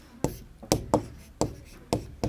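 Chalk strokes tap and scrape across a classroom board in five or six short, crisp bursts spaced about half a second apart, close and fairly quiet, with no voice over them.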